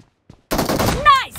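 Gunfire in a shooting video game: a brief loud burst of shots in rapid succession after a moment of silence, followed by a short bright tonal game sound.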